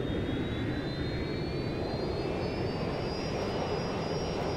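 An airplane flying in the video game Watch Dogs: Legion gives off a steady, loud jet-engine roar with a faint rising whine and no voices.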